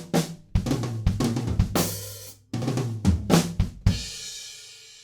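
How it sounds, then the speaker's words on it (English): A drum kit plays a fill from a song, with quick snare, tom and kick strokes, crash accents, and a short tail of hits ending on a crash that rings out and fades, loud and close. "we have a really similar fill again, but it's just got this little tail at the end."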